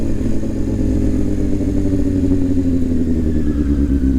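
Loud, steady engine rumble with a rising buzzing tone, like a dirt bike running close by, no voices.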